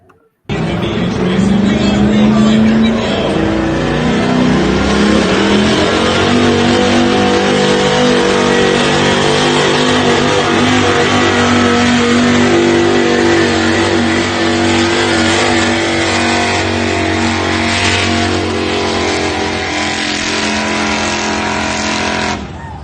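A street class pulling truck at a West Coast Pullers event in Turlock revs loud and close, its engine roaring and climbing in pitch, then holding a sustained, rising drone for over twenty seconds.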